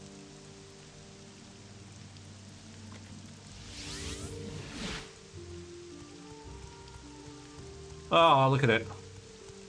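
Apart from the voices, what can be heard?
rain from video game Morrowind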